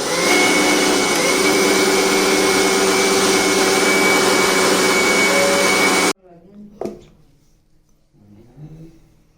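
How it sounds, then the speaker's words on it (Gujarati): A kitchen mixer grinder crushes black sesame seeds for laddus, a loud steady whirring drone for about six seconds that stops abruptly, followed by quiet clatter and small handling noises. "સૌ પ્રથમ આપણે મિક્સરમાં કાળા તલને ક્રશ કરીશું"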